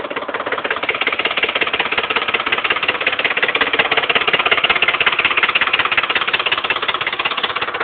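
A 5.4-liter Ford engine in a 2008 F-150 with a knock gives a rapid, even, loud mechanical rattle throughout, a hammering tick over the running engine, close by with no talk.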